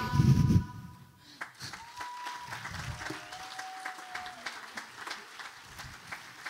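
A burst of applause from an audience, loudest at the start and then thinning into scattered clapping and crowd noise.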